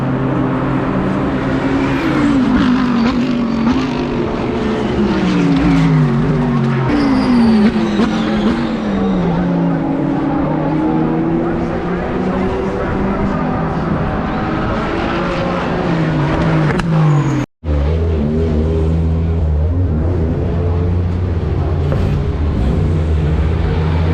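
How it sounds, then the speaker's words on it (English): Lamborghini and Porsche race cars roar around a circuit, engines droning and shifting pitch as they pass, loud and continuous with a brief dropout near the end. "it's so nice to see all the Lambos and Porsches racing"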